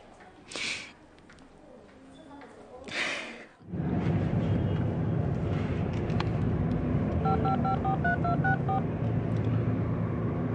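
Telephone keypad tones beep in a quick irregular series of dialing pips over a loud steady rumble, with a couple of earlier breathy or snorting noises before the rumble begins.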